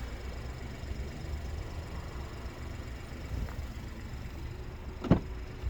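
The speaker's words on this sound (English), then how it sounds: "we have the electric rear windows, which are automatic." Electric rear windows on a SEAT Ibiza 1.0 TSI FR five-door running, a faint motor hum under quiet interior ambience that ends in a sharp thunk as the glass stops.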